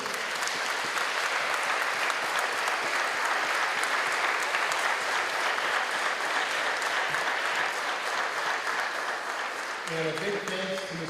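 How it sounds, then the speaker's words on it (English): A school assembly crowd applauding veterans on Veterans Day, a steady, full round of clapping that carries on at length, with a voice starting to speak over it near the end. "Let's give one more round of applause for all of our veterans."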